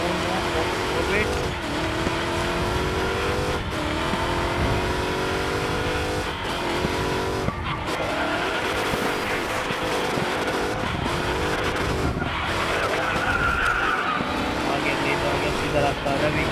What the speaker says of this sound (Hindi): Stabilize. Don't let the car lose control.